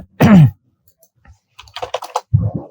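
A quick cluster of crisp keystrokes types a Python command on a computer keyboard, close and clear, with short vocal sounds just before and after.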